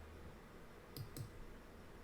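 Two quick, crisp computer mouse clicks come about a quarter second apart, faint and isolated against a quiet room hush while Revit software is used.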